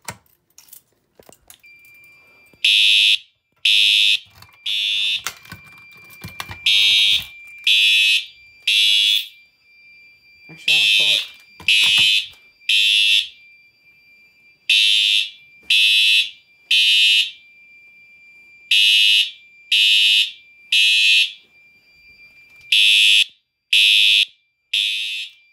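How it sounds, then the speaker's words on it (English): A Faraday fire alarm system sounds during a full test, loud electronic tones blaring in repeated bursts with short gaps, close and insistent over about twenty seconds after some brief handling noise at the start. "So, now we're going to actually test the system fully, or do a full alarm."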